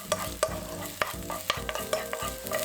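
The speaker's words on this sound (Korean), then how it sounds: "대파 먼저 볶아줍니다." Green onions stir-fried in a pan at the start of a Korean side-dish recipe, with a steady sizzle under repeated scraping and clacking strokes of a utensil against the pan, close by and no voices.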